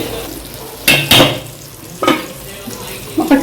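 Masala gravy with pomfret fish frying in a pan, with a few sharp clatters of stirring over a low, steady sizzle.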